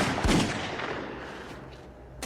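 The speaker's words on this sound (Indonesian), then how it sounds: "Catherine mengambil senapan dan secara mengejutkan melepaskan tembakan tepat ke arah Amelia." A rifle fires a single loud, sharp shot that booms and then decays into a fading rumble, with no voices.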